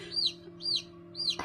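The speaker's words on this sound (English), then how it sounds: "I heard some chirping, and I came in here and I saw that chick come out of its egg" A newly hatched chick gives three thin, high chirps about half a second apart, close and clear over a faint background hum.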